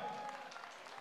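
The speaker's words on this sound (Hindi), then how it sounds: "एक बार जोरदार तालियों से अभिनंदन कर दें।" An audience claps in welcome for guests at a temple felicitation ceremony in Vrindavan, giving a steady, faint, fairly distant wash of applause that holds evenly for about a second.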